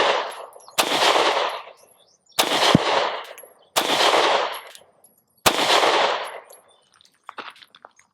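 Sig P365 pistol firing four sharp, loud shots at a range, spaced roughly every one and a half seconds with long echoing tails, followed by fainter clinks and rattles.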